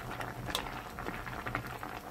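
A pot of Korean seaweed and oyster soup simmers at a quiet, steady boil, with soft continuous bubbling and small popping bursts heard close up.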